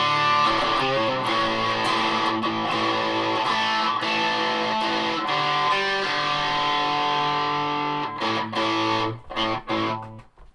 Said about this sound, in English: I suppose I'll put some distortion on.